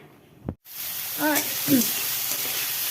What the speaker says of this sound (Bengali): এই যে রাই সর্ষে করছি শাক বসানো আছে কড়াইয়ে